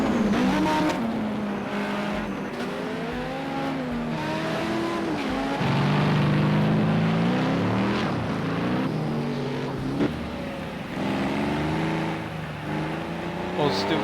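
Group 5 race cars, including a Porsche, in the Project Cars 2 racing game on Xbox, engines revving and shifting up and down continuously as they race, loud and close throughout.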